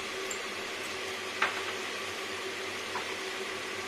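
Arum and mixed vegetables fry in a pan as salt is stirred in, a steady close sizzle with a couple of brief scraping stir sounds.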